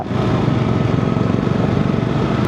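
A motorbike engine drones loud and close while riding along a hill road on Ajodhya Hill in Purulia, a steady rumbling hum with wind noise throughout.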